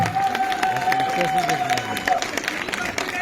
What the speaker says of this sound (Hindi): जोरदार तालियों के साथ उनका स्वागत करेंगे